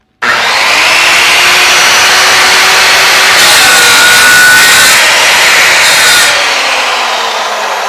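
A circular saw running on a DIY cutting rail cuts through a piece of wood, a loud, sustained whining buzz that holds steady for several seconds before the blade begins to slow.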